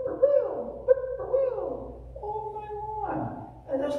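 A person's voice imitates an owl, drawing out several soft, wavering hoots one after another in a close, clear tone, with speaking mixed in.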